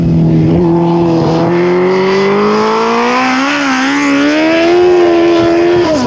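A 2001 Suzuki GSX-R1000 sport motorcycle engine pulls hard under acceleration, its loud, close whine rising steadily in pitch over several seconds with a brief dip near the end.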